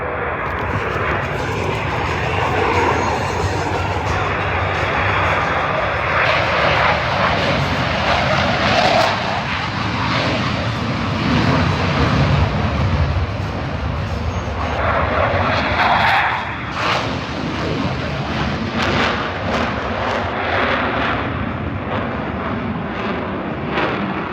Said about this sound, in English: Complete the high performance climb, while Blue Angel number 6 executes his immelman and exits the flight flag line inverted to the right